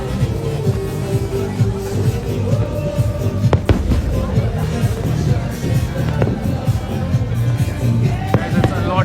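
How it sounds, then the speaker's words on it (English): Fireworks burst at a closing-night celebration at Global Village in Dubai, occasional sharp bangs popping over a steady crowd hubbub with talk nearby. "That's why they are doing some fireworks also for the closing purpose."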